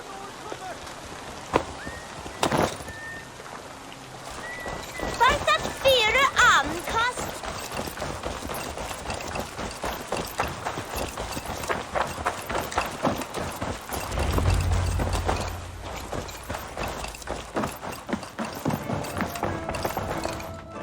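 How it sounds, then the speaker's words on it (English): Horse hooves clip-clop in the video game Assassin's Creed Valhalla, a rhythmic run of close, fairly loud steps mixed with game ambience and a voice talking over parts of it. "Let's return the horse."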